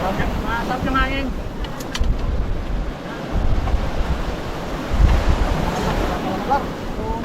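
Steady wind roars and buffets the microphone, with a surf-like rush underneath that swells and eases throughout.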